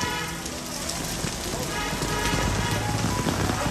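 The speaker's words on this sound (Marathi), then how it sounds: "पाऊस थांबायचंच नाही ना इथं" Steady rain pours down in Dadar, Mumbai, with a dense, hissing wash throughout, loud and close, with faint voices mixed in beneath it.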